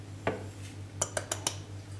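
A whisk or fork clinks against a bowl while beating whole eggs with cottage cheese for a brownie batter, several sharp taps in quick succession over a low steady hum.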